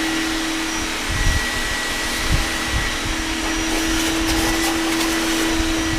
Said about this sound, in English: vacuum, and I'm going to drill this while this is running